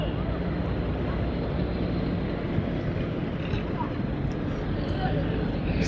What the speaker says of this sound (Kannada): ಇವಾಗ ನೋಡಿ ಅಲ್ಲೊಂದು ದೋಣಿ ಹೋಗ್ತಾ ಇದೆ ನೋಡಿ